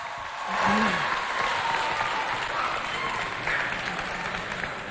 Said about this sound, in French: Applaudissez pour vous, s'il vous plaît.